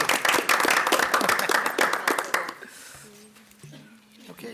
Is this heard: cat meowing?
no